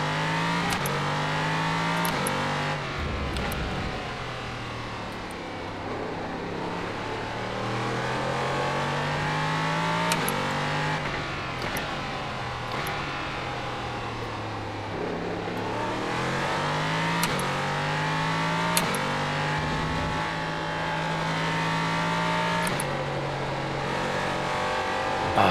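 An LMP3 race car at the Circuit of the Americas in the iRacing sim drones loudly and steadily, its engine pitch climbing and dropping through gear changes as it accelerates and brakes around the track.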